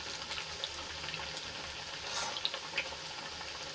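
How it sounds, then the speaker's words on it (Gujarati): Oil sizzles and bubbles steadily as bajra methi puris deep fry nearby, a soft continuous crackle with occasional small pops. "અને બંને બાજુથી આપણે સરસ રીતે ક્રિસ્પી થાય ત્યાં સુધી તળી લેવાની છે"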